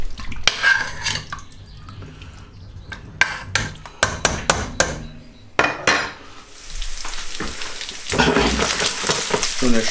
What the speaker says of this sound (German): der Speck ist gleich so ein bisschen angeschwitzt